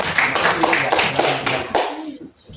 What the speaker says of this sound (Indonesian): Kita berikan aplaus untuk kelompok ketiga yang sudah menyampaikan